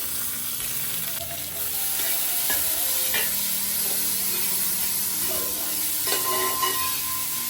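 Onion, tomato, green chilli, garlic and ginger sauté in a pan for mutton chukka, giving a close, constant sizzle. Repeated stirring scrapes and clinks sound over it, and no one speaks.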